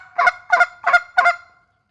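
Canada geese honk four times in an even rhythm, loud and close, each call a short nasal blast, with silence afterward and no voices.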